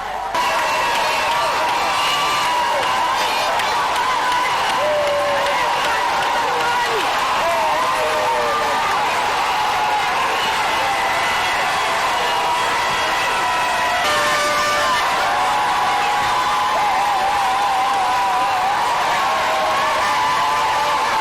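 Large crowd packed along a roadway by a market, greeting the head of state with a continuous loud roar of cheering, whooping and shouting, and a narrator speaking over it.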